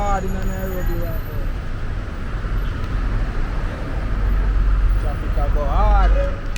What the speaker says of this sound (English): Traffic go hard in Nairobi right now.